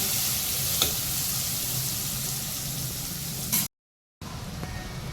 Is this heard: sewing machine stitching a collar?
no